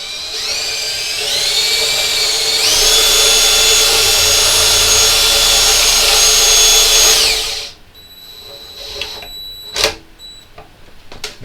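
A cordless power drill spins a threaded rod during assembly of a reverse-trike electric go-kart. A loud, close, steady whine rises in pitch, holds for several seconds, then cuts off, followed by a few light metallic clicks and taps.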